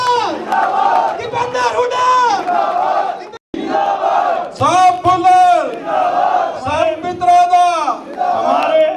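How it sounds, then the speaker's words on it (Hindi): A large political rally crowd in Haryana shouts, claps and cheers in loud rising waves, voices chanting together, with a brief pause before the roar resumes. "हमारे हरियाणा की शान, सब तालियों से जोरदार चाहिए भाई दीपेंद्र हुड्डा।"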